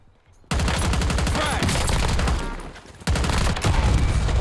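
Rapid automatic gunfire in the video game Call of Duty: Warzone, loud and sustained bursts of shots with a short pause before firing resumes at full intensity.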